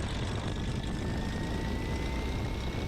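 Light airplane engine running up on the ground, a steady, loud propeller drone with a faint rising whine, continuous and close throughout.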